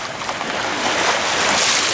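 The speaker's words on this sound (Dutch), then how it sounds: "We varen rustig de nacht in. Dat prachtige rustige zee." A boat sailing through a calm sea at night during a crossing gives a steady, loud wash of waves and water rushing past the hull, mixed with wind buffeting the microphone. No one speaks.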